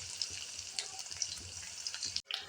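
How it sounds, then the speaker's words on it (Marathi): Green chillies fry in hot oil for pav bhaji, giving a soft, steady crackling sizzle with faint pops, heard quietly and alone, broken by one brief cut. "आता आपण हिरवी मिरची तळायला टाकूयात. हिरवी मिरची छान प्रकारे फ्राय करून घ्यायची आहे"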